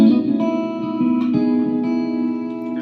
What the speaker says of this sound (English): There's a little bit of chorus with it.